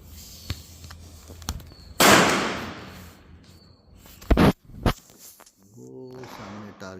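An Air Venturi Avenge-X air rifle fires with one sharp, loud crack followed by a second shorter burst of impacts, set among quieter handling clicks, with a brief voice near the end.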